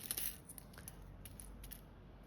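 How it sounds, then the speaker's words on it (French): Small snips of scissors cutting quilting fabric for patchwork piping, faint and close, a few quick crisp cuts in a quiet room. "Donc, je vais couper légèrement"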